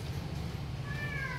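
A cat gives one short, rising meow near the end, heard over a steady low outdoor hum.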